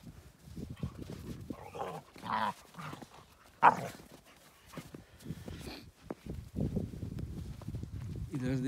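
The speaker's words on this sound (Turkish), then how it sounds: "Aşağıda duyuyor musunuz bilmiyorum ama bayağı bir köpek sesi var." A large pack of at least fifteen dogs barking far off down a mountain forest road on a cold snowy day, faint scattered barks under a man's nearby speech and footsteps.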